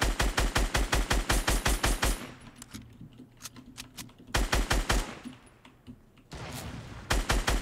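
Rapid automatic gunfire bursts in a shooter video game, loud and close, broken by a pause with scattered single shots including a sharp sniper rifle crack before another burst of automatic fire resumes.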